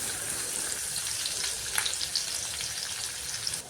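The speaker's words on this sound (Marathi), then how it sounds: "कढईत तेल गरम झाल्यावर ठेचलेला लसूण टाकला." Crushed garlic sizzles in hot oil in a kadhai, a steady close bright hiss with a few sharper crackles throughout.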